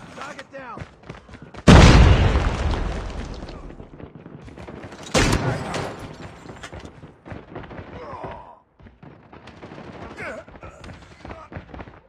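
Grenade blasts and bursts of gunfire in the mobile shooter Call of Duty Mobile, two loud booms with rattling shots and scattered weapon noise between them, mixed with in-game voice callouts.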